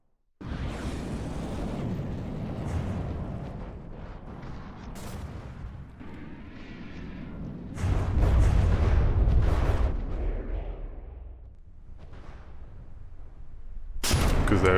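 Missile explosions against metal in the naval combat game From the Depths, a dense continuous barrage of rumbling blasts and booms with a deeper surge midway and a sharp burst at the close.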